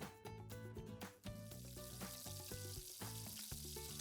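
Cornstarch- and cumin-dredged paneer sears in hot olive oil in a pan, a dense, steady sizzle broken by a few sharp crackles and brief dips, with tonal music running underneath throughout.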